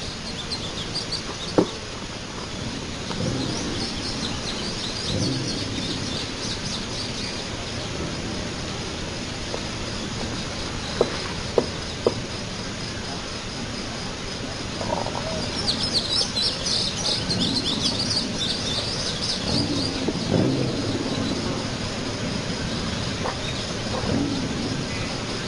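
A flock of birds chirps continuously in the distance, a busy chattering texture over low background rumble, with a few sharp clicks and a livelier stretch of calls partway through.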